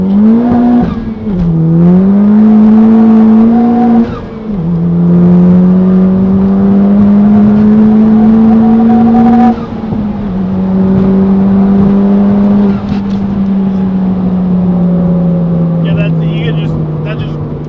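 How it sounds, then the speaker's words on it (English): A Honda Civic Type R FK8 tuned by Unity Performance is driven flat out in second gear. Its loud engine note rises and falls in long sweeps with brief dips between pulls, heard from inside the cabin. "we're just gonna hammer it in second gear and just kind of ride through the wheels"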